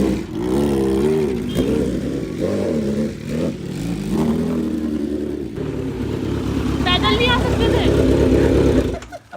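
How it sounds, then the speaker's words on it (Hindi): Several motorcycles being cold started and revved in a parking area, a steady mid-pitched engine drone with rising revs throughout, close and loud, while people talk over it. "3 बाइक ड्रॉप करके बाकी तब तक 3 कोल्ड स्टार्ट कर लो"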